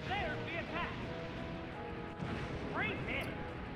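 A Pokémon video game battle, with the Self-Destruct explosion attack heard as a brief blast amid game effects and chiptune tones, all faint and partly under a commentator's voice.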